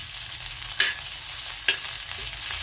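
Stuffed green chillies sauté in a hot pan with a steady, close sizzle of oil, broken by a couple of sharp scrapes as they are stirred.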